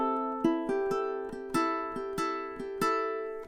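Ukulele strummed through measure 11 of a song, a steady run of about ten rhythmic chord strums ringing together, close and clear with no voice.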